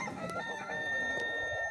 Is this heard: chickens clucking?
yes